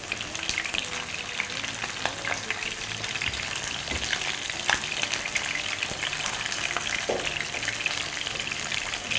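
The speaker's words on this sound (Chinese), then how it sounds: "用这个葱油再煎鸡腿。" Chicken legs pan-fry skin-side down in scallion-infused oil over medium-low heat, a steady close sizzle with scattered pops and spatters throughout and no voices.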